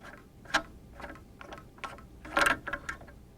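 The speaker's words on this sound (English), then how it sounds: "we will use a 7/8 wrench in order to loosen the nut" A 7/8 wrench works loose the nut on a Pentair brine valve assembly, a series of sharp metallic clicks and ratcheting ticks, close and fairly quiet, with no talking.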